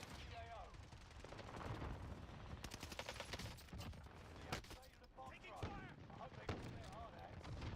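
Rapid gunfire rattles through a Call of Duty video game gunfight, bursts of automatic shots and sharp cracks packed together with game effects, played back fairly quietly.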